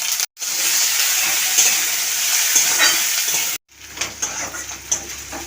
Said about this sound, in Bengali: তেল গরম হয়ে গেছে এবার আমি পেঁয়াজ কুচি দিয়ে দিচ্ছি রসুনের কুচি দিয়ে দিচ্ছি